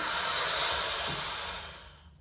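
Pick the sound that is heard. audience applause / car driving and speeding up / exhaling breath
exhaling breath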